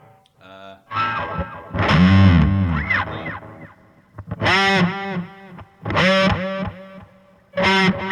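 Electric guitar run through distortion and chorus effects imitating a duck quacking, played as short, loud, nasal bursts separated by brief pauses.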